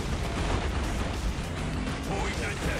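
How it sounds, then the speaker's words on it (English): Tank Buster units firing in the Dawn of War video game, a dense, steady wash of battle noise with dull booming shots blurred together under continuous game sounds, with faint talk mixed in. "Tank Buster's firing away"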